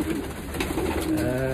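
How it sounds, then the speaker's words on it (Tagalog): Pigeons in a loft coo steadily in low, rolling tones amid a dense flock hum, with soft wing and shuffling noise behind them and no one speaking. "Ayan po mga kalapati ni Mr."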